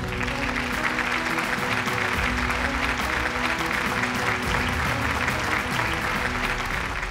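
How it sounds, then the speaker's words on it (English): Continuous applause from the audience at a banking and finance brands awards ceremony, steady and full throughout with music or a low hum underneath. "let's keep that applause going"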